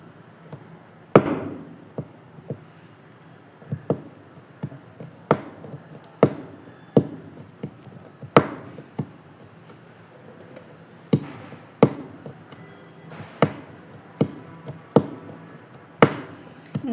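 A braille stylus punches dots into paper held in a metal slate, giving sharp, close clicks and taps at an uneven writing pace, some louder than others, over faint background hiss.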